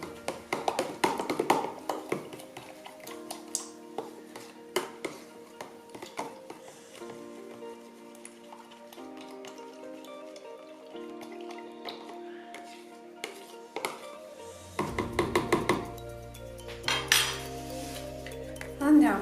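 A utensil stirring yeast into milk in a bowl, with light clinks and scrapes against the bowl in irregular bursts, close but soft, joined by louder clattering near the end.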